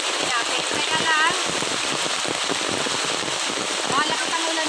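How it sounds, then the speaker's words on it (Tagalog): Heavy rain hisses steadily and densely on surfaces, loud and unbroken throughout, with a faint voice briefly audible beneath it. "malakas ang ulan ngayon"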